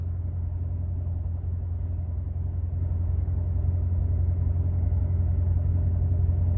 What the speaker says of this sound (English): I can still hear the motor, but I mean, it's just like a slight purr.